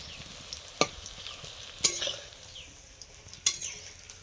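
Egg fritters (dimer bora) frying in oil hiss and sizzle steadily, broken by three sharp clanks of a utensil against the pan, close by and without talk.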